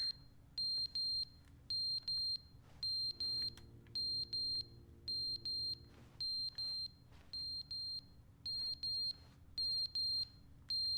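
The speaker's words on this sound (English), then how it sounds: "Fire alarm?" A fire alarm rings in The Stanley Parable, a loud high electronic beep repeating in short regular pulses, each cut by a brief gap, over a low hum.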